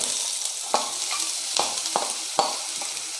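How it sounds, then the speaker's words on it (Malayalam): Two large, finely chopped onions frying in hot coconut oil for tapioca cutlets make a constant sizzle, broken by rhythmic scrapes and clacks of stirring. "എണ്ണ നന്നായി ചൂടായി വന്നിട്ട് കേട്ടോ നമ്മളിതിലേക്ക് രണ്ട് സവാള അരിഞ്ഞത് ചേർത്ത് കൊടുക്കാണ്"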